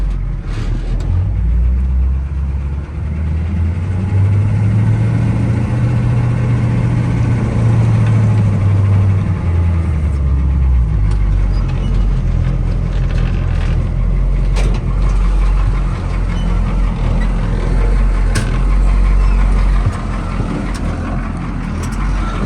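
A service truck's 6.2 engine idles steadily and loudly up close, a deep continuous rumble with a slight rise and fall in pitch and no voices over it.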